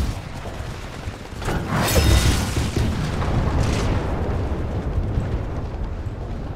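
Titanfall 2 gameplay with a 40-ton titan running over stalkers: heavy rumbling booms and a large explosion burst near the start, followed by continuous loud rumble and crackling debris with no speech.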